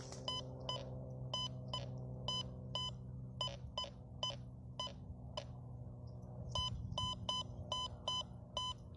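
A metal detector sweeping farmland gives a repeated series of short, sharp electronic beeps over a buried target, in rhythmic bursts with brief pauses between them, heard clearly and close over a steady low background hum.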